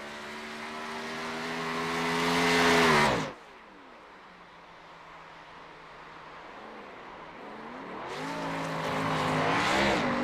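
Race car at Watkins Glen qualifying, a loud engine rising in pitch through the gears, then a sudden drop to a quieter idle-like drone before another strong acceleration builds again.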